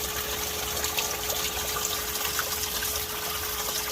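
Water pours steadily from holes into a sump pump chamber in Spring, Texas, a loud, constant gushing rush close by with no pauses.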